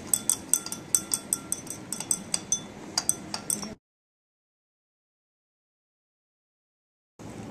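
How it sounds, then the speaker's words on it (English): A glass stirring rod clinks rapidly and brightly against glassware while chemistry lab solutions are mixed, a steady run of close ringing taps over a soft room hum that stops abruptly, then faint room noise returns. "Now watch as Carolyn, a gifted chemistry student, mixes the first solution, rinses the stirring rod, and then mixes the second solution"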